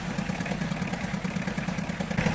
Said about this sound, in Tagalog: Tapos pwede na nating i-start itong makina.